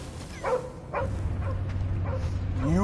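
A dog barks and yips several times at irregular intervals over a loud, busy action scene with rumbling background noise.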